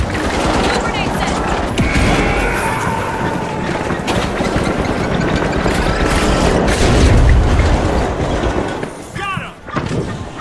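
Grenade blast and gunfire in the video game The Finals, a dense stretch of rapid shots and booming explosions with a loud surge near the middle, mixed with talking.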